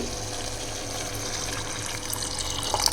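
Steady rush of water pouring into a pot, continuous and close, with a slight rise toward the end.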